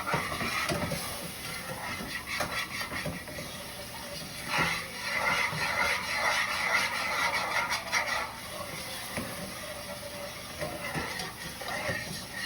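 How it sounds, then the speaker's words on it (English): A pan being deglazed sizzles steadily while the browned bits are scraped up with repeated stirring strokes, loud and close, continuing throughout. "Scrape up the bits, deglaze the pan."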